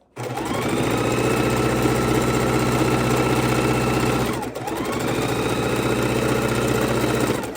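A sewing machine runs steadily while stitching fabric scraps together for a quilt, a close, continuous mechanical whir with one brief pause near the middle before the motor starts up again.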